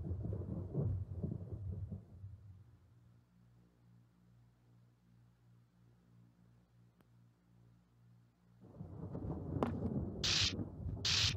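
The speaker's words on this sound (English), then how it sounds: "My only source of light is thunder and lightning." Rumbling thunderstorm from the video game Five Nights at Wario's 2: a heavy roll of thunder fades into a quiet low hum, then another loud rumble builds with sharp crackles near the end.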